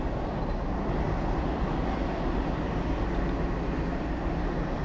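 A continuous, even rumble of a moving metro train in the video game Metro Simulator 20, steady and unbroken throughout with no voices.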